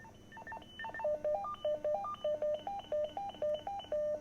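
A Motorola Talkabout T246 walkie-talkie plays a quick series of electronic beeping call tones, rising and falling, then a steady repeating two-note chirp pattern, clear and close with no talking.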